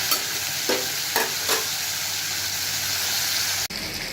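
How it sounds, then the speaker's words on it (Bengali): Steady oily sizzle of Bombay duck (lote fish) frying in a wok, with a few soft scraping stirs early on and a brief cut near the end. "এখন আমি মাছগুলোকে কড়াইয়ের মধ্যে দিয়ে দেব।"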